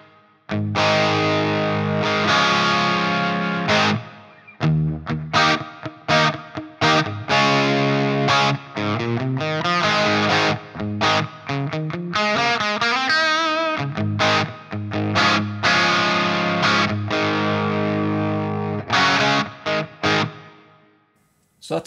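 An electric guitar on the bridge pickup plays through a Line 6 POD GO with a Timmy overdrive pedal engaged, producing a gritty, moderately driven tone in a busy run of strummed chords and choppy riffs, loud and continuous.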